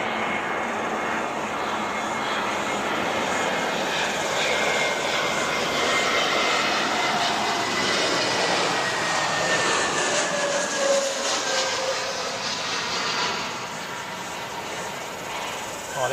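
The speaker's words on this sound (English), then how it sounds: "Oh, that was a gorgeous little landing." An airliner lands at Wellington Airport, its engines producing a broad, sustained roar that holds steady for many seconds before easing slightly, heard from a distance with people talking faintly underneath.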